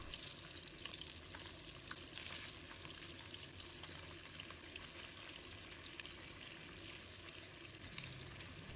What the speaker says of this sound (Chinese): 全部放入后把它煎一下，不要着急翻动